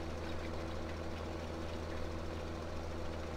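Tractor engine running steadily while cultivating a field in the Farming Simulator 17 video game, a continuous low droning hum with a constant level and no talk.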